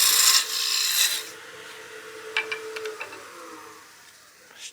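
A wooden baseball bat taper is turned on a lathe: a hissing scrape of the tool cutting the spinning wood opens the clip, then gives way to a soft, low hum with a few light ticks and taps close by.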